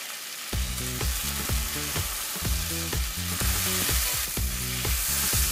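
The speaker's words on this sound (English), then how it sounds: "And I just keep cooking down the onions." Onions cooking down in a pan for Crock Pot French onion soup, frying with a steady broadband sizzle. Repeated sharp clinks of a utensil against the pan keep a loose rhythm throughout, close and moderately loud, with no talk.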